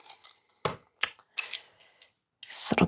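Scissors being handled while clearing out a cluttered drawer late at night, a few sharp separate clicks and clatters of metal against other small objects, close by and spaced apart in quiet.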